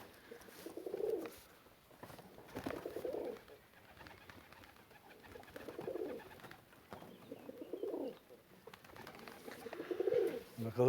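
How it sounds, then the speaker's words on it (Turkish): Pigeons coo repeatedly in a domestic loft, with soft rounded calls rising and falling about every two seconds, close and moderately loud, with no talk over them. "bütün kuşlarımız geri geldi arkadaşlar"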